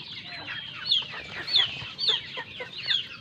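Young backyard chickens, bought as chicks, cluck and chirp in a steady close chorus, with sharp high calls recurring about every half second over soft farmyard background.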